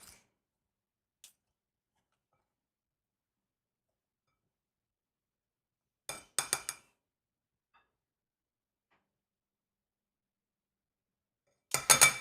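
A pastry cutter works a mixture in a bowl until it turns crumbly. A couple of short bursts of clinking, scraping strokes break a mostly silent stretch, one in the middle and one at the end.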